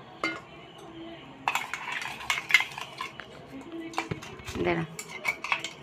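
A spoon stirs a spice mix with water and milk in a bowl, clinking and scraping against the sides in quick uneven bursts, close and clear, with a brief spoken word in between.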